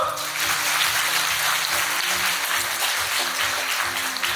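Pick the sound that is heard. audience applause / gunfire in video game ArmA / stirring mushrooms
audience applause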